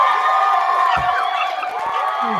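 A soundboard crowd-cheering effect plays a dense, steady roar of cheers and whoops at close, loud level, with a brief voice breaking in near the middle.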